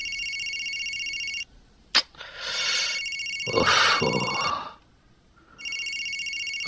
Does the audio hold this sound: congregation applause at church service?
no